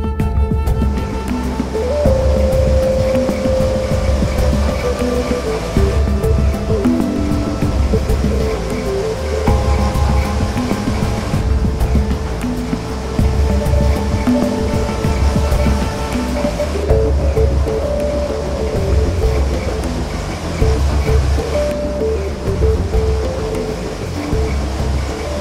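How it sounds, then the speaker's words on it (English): Heavy pouring rain outside at Kalpeshwar on a Himalayan trek, a loud, dense and continuous wash of sound that never lets up, with some faint tones drifting through it. "It's pouring rain outside."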